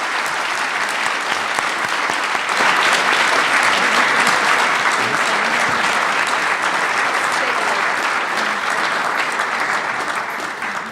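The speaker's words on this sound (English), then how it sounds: "Let's give the debaters a big round of applause" An audience at a state treasurer debate forum applauds the debaters, loud, sustained, dense clapping that holds steady for several seconds before easing slightly at the end.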